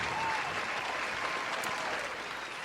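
A canned applause sound effect plays on a podcast, a continuous, moderately loud wash of clapping that holds steady throughout with a slight fade at the end.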